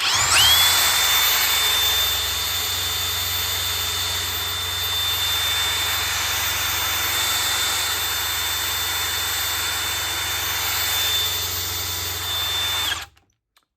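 A BMW 745d V8 diesel alternator spins on a test bench, a loud continuous whine with a high steady tone that spools up at the start and cuts off abruptly at the end, with no talking.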